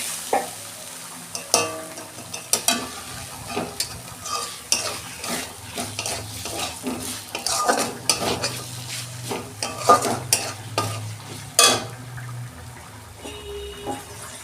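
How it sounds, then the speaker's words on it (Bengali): Potatoes stir-frying in a spice masala for a tengra fish curry with potato and eggplant, the spatula scraping and clattering in a steady, irregular rhythm over a continuous low sizzle, close and fairly loud, with no talking. "এই মশলা থেকে যতক্ষণ না তেল ছাড়ে আমি একটু কষতে যাব 2 মিনিট"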